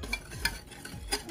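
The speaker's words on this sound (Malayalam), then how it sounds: "ഇത്രയും കൂടെ ചേർത്തിട്ട് നമുക്കതൊന്ന് നന്നിട്ടൊന്ന് മിക്സ് ചെയ്യാം." Chicken wings are tossed with chilli powder, pepper and salt in a bowl, making a few soft, close scraping and stirring sounds in a short burst.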